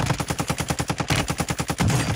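Automatic gunfire in the Warzone video game, a rapid, evenly spaced burst of loud shots repeating for about two seconds, alone with no voices.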